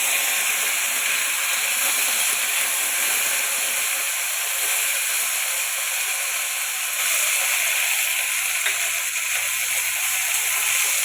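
String beans frying in a hot pan with garlic, a steady broad sizzling hiss that holds evenly throughout without pause.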